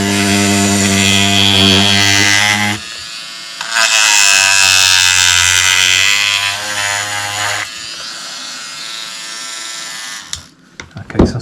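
A small Proxxon PS13 electric sander buzzes loudly against boat planks, stripping glue residue in long steady bursts with brief pauses between passes, ending in a few scattered clicks and handling noises.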